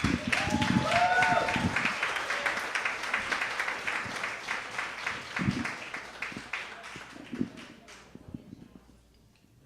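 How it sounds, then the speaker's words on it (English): Comedy club audience claps as a comedian is introduced, opening with a voice and hoots over the applause, which then fades gradually to quiet with a few last claps. "so please clap it up for Marc Ragovin."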